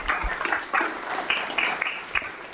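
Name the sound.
audience applause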